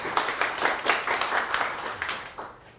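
Audience applause greets a company CEO introduced on stage at a talk event: dense, steady clapping from a room of people, pulsing for a few seconds before tapering off.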